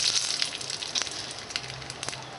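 Mustard seeds spluttering in hot oil in a pan, a dense run of rapid crackling pops close up, with no voices.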